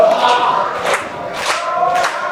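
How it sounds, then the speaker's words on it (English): An arena wrestling crowd in a Space Blast match cheers for Peter Miller, loud rhythmic chanting swelling in three quick pulses. "The crowd getting behind Peter here."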